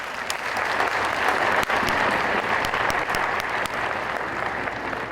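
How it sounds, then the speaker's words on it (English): An audience claps steadily and loudly in a hall, welcoming the Lomé mayor's representative onto the stage at a 2009 organic vegan event. The applause is sustained and dense for the whole stretch, with no voices over it. "welcome him on stage with big applause"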